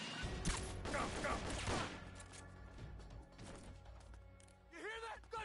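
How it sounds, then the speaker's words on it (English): Bursts of video game gunfire crackle in dense volleys, loud and close at first and then thinning out, with voices and game sounds layered over the shooting. "You hear that? Gunshots!"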